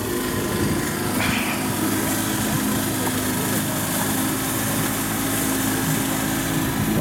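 A motorboat engine runs steadily on the river at Kazimierz Dolny as boats come alongside, a continuous close drone with buzzing harmonics throughout.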